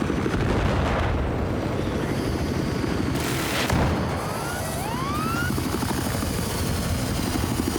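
Dense, continuous rumble of Battlefield 4 combat with a helicopter drone and a muffled RPG blast midway, plus rising whistling tones like an incoming projectile.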